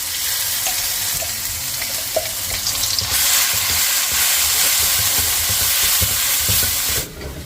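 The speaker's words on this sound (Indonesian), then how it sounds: "dan ini aku mau gongso cabai" Chili peppers stir-fried in a wok in oil left over from frying shallots, a loud continuous sizzle and hiss that swells after a few seconds, with stirring scrapes, then drops away near the end.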